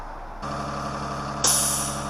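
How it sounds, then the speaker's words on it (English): A tow truck on a busy highway, its engine idling steadily before a sudden loud hiss of air brakes releasing near the end, close and without any talk. "Well, the tow truck's arrived"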